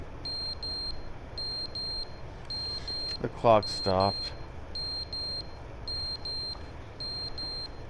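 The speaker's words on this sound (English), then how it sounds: "Oh shit, the alarm!" An alarm in The Stanley Parable video game, a repeating high electronic beep pattern in short bursts throughout, with a person speaking briefly in the middle.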